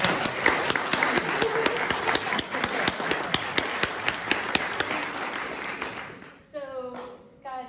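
A theatre audience at the King's Head Theatre claps in a sharp, rhythmic round of applause that carries on for about six seconds and then stops, followed by a person speaking.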